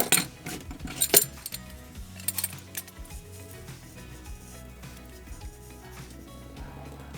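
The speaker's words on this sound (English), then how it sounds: "I'm tempted to just crack the filter loose before I even drain the oil" A filter wrench works loose the oil filter on a Toyota 22RE engine in a pickup, giving metallic clinks and scraping rubs, louder bursts at first, then quieter creaks and faint rattles.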